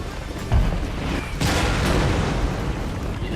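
Cannon fire in a Shogun 2 battle booms out in a couple of broad, heavy blasts over a dense, noisy rumble of battlefield sound.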